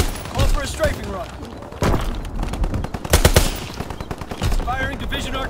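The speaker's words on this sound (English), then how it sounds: "Fighter pilot in your area. Call for a strafing run." Strafing-run machine-gun fire in Call of Duty WWII, Domination on Shipment 1944: bursts of rapid automatic gunfire with sharp cracks and an impact burst near the middle, ringing over game chatter and voices.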